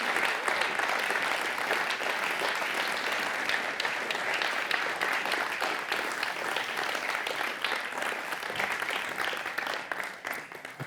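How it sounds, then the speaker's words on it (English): Sustained audience applause fills a room at the Amsterdam Science & Innovation Awards 2023 ceremony, a dense steady clapping that holds loud and even throughout before easing slightly at the end. "An applause, please."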